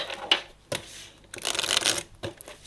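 Tarot cards are shuffled for a reading in several quick riffling bursts separated by short pauses, close up and with no talk.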